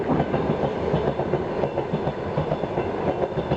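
An electric commuter train rumbles steadily with rhythmic wheel clatter at Yauza station in Moscow on a frosty winter day, loud and continuous with no voices.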